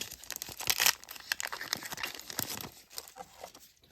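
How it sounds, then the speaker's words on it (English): Hands tear open a Topps Chrome WWE trading card pack, a close, busy run of crinkling and ripping foil wrapper that fades toward the end. "I'm gonna literally rip this one instead of cutting."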